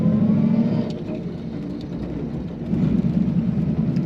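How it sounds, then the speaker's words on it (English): A black 1934 Ford Model 40 five-window coupe with a three-speed manual cruises on the highway, giving a steady low engine drone and road rumble that swells slightly near the end, with no talking. "Today we're driving a 1934 Ford Model 40 in black."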